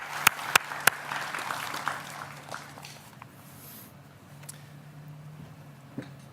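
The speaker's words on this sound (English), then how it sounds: "Let's give a round of applause to the band" A crowd at an outdoor Memorial Day ceremony applauds a band, opening with a few sharp, close claps before a moderate wash of clapping fades away into quiet room tone.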